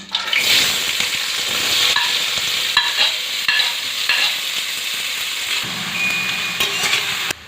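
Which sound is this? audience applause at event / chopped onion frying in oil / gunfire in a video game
chopped onion frying in oil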